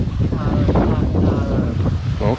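Wind buffeting an outdoor phone microphone, a dense steady rumble and roar filling the clip beneath a person talking.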